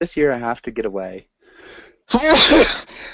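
A single loud sneeze bursts out right after a woman's speech, preceded by a brief faint breathy intake, with talk before it.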